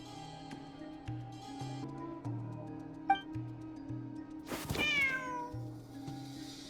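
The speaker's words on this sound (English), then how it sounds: "There's a good kitty." A cat meows in the video game Genshin Impact, a single bright, rising-and-falling meow over soft background music with light ticking and clinking sounds.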